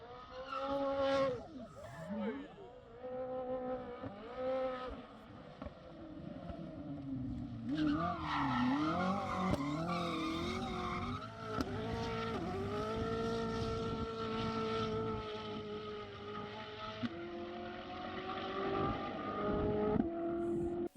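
Koenigsegg cars driving fast, engines rising and falling through repeated revving passes with tire squeal, a continuous sequence of loud high-performance engine notes heard from nearby.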